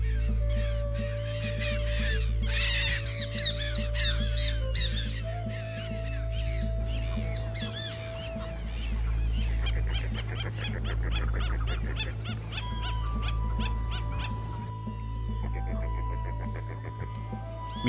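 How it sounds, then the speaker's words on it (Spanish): Waterbirds call at a drought-affected lagoon at dawn, a busy chorus of honking, cawing and chattering voices, loud and overlapping at first and thinning later, over a steady low hum. "El bullicio aviar rompe la calma de la primera hora del día."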